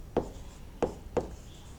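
Pen or pencil strokes on paper during a maths lesson on profit percentage, three short scratchy marks spaced apart, close and fairly quiet with no voices.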